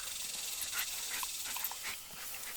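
A friend's dog named Nelson pants steadily and fairly close, quick rhythmic breaths over a faint hiss, with no one talking.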